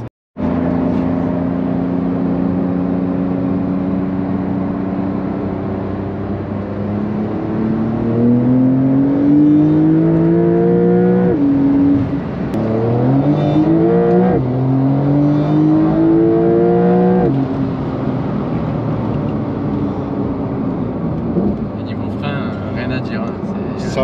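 Porsche 911 Stage 1 with about 527 horsepower accelerating hard, engine tone rising through repeated gear sweeps, loud and steady inside the cabin while people talk over it.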